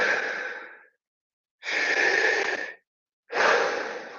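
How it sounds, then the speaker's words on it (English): Deep breaths drawn in and out through the mouth during a breathwork exercise, three long airy breaths separated by short pauses, close and clear with no talk. "these last 10 breaths are in and out through the mouth only"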